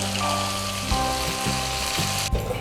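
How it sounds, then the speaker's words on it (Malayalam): Fish frying in hot oil, a steady even sizzle that fills the whole stretch, with a faint clink partway through and no voices. "അപ്പോൾ നമ്മൾ മീൻ വറുത്തെടുത്തു."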